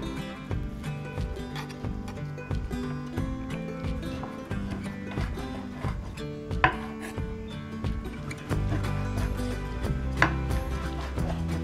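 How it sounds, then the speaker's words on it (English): A knife chops beef for a Thai beef stew, with repeated dull chopping strikes on a board under steady tonal background music, growing heavier toward the end. "Now I am going to cut the meat"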